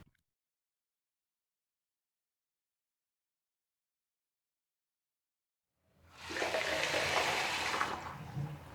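After a long silence, water suddenly gushes from a tap once the mains supply is restored, a steady close rushing flow that continues to the end.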